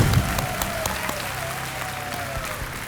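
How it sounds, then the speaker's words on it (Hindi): An audience claps for a guest, a steady wash of applause with a few sharper individual claps standing out, moderately loud from start to end and easing off slightly. "तालियां बज जाए महिमा जी के लिए।"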